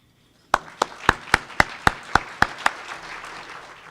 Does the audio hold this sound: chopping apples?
no